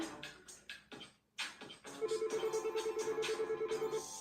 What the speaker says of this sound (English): Of course, my work phone would be ringing.